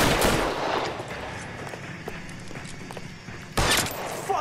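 Gunfire in the video game L.A. Noire, with loud sharp shots at the start and again near the end, separated by scattered lighter impacts and game noise in between.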